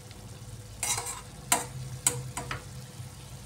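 Cauliflower stem curry stirred in a pan after the lid comes off, a low simmering sizzle broken by several sharp scrapes and clacks of the spoon against the metal, close by, with no voices.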